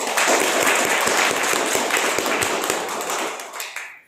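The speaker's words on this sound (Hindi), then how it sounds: "एक बार फिर से जोरदार तालियां हो जाए" Audience applause at a product training session, a dense wash of many hands clapping loudly and steadily for about four seconds before fading out at the end.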